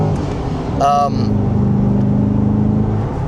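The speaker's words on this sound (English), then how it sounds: "I spend most of my time in Z mode as I am right now." A C8 Corvette driving in Z mode gives a steady, low engine drone and road rumble that holds throughout, with a brief brighter swell near the one-second mark.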